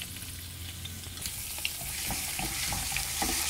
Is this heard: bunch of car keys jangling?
no